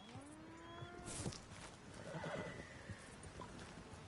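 A horse in a western video game gives a loud, wavering whinny, followed by a second shorter neigh, while hooves clip-clop steadily underneath, all heard close without speech.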